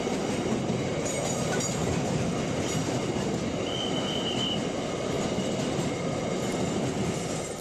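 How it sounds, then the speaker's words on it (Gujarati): A long goods train of forty-six wagons rolls steadily past with continuous rumbling and faint wheel clatter, a brief metallic squeal partway through; no voices. "છેતાલીસ ડબ્બા સાથેની માલ સામાનવાળી ટ્રેનનું ટ્રાયલ કરવામાં આવ્યું હતું"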